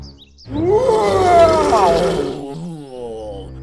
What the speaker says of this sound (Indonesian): Namun sebuah auman darimu dapat mengatasi segalanya.